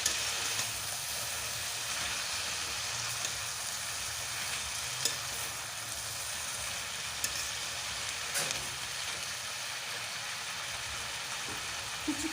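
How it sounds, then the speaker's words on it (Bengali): Leafy greens and eggplant stirred together in a frying pan: a dense, even sizzle fills the whole span, with a few faint utensil taps scattered through it, close and steady, with no speech. "বেগুনের সঙ্গে শাকগুলো ভালো করে মিশিয়ে নিতে হবে।"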